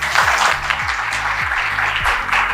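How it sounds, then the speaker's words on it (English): Applause from a gathered audience celebrating a doctor's exam achievement, a steady wash of clapping with some low background tones underneath, moderately loud throughout. "She deserves a big round of applause."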